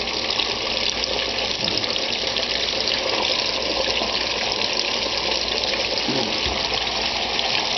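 Chicken breast dropped into hot frying oil for Southern fried chicken gives a steady, loud, broad hiss of sizzling oil that continues unbroken throughout, with a faint bump or two underneath and no voices.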